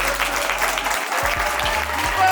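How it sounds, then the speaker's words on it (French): An audience applauds at a startup challenge event on local media, a brief burst of dense clapping from many people heard up close, with some low background sound beneath. "vous demander de vous applaudir"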